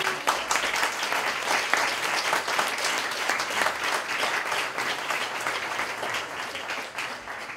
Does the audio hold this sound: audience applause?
yes